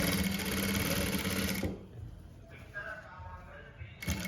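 A sewing machine stitches facing fabric folded inward on a frock at a quarter inch, a steady loud whir for about a second and a half before it stops, leaving quiet room noise and faint handling.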